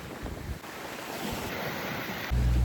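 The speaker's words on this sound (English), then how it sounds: "I'm not sure if you can hear me over the wind, but it is pretty howling" Strong wind howls and buffets the microphone on a sailboat at sea, with wave wash beneath it; a steady, noisy roar that swells louder and heavier toward the end.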